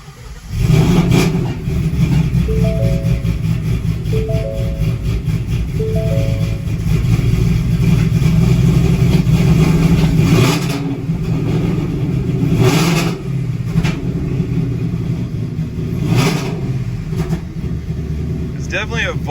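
A car engine with a voltage fault and check engine light on runs steadily with a low rumble and occasional revving, while people talk over it and brief clicks punctuate the noise.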